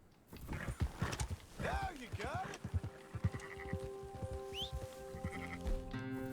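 In Red Dead Redemption 2, sheep bleat several times in wavering cries while being herded, over clopping horse hooves and a rhythmic trotting beat, with a higher animal call and game ambience.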